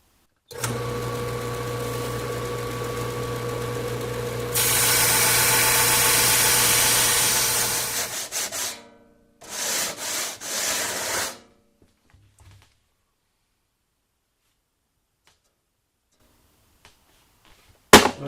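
Pieces of metal are ground to a straight edge for a custom go-kart floor and seat, producing a loud, steady high-pitched grinding whine that rises in intensity, cuts out, then returns briefly before stopping into near silence.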